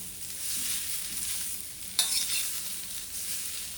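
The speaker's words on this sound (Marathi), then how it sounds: "कांदा भाजण्यासाठी थोडा वेळ लागतो, पण गॅस फास्ट ठेवायची कांदा भाजताना" Onion roasting in a pan over a high gas flame, a steady hissing sizzle with one brief scrape or stir partway through and no talking.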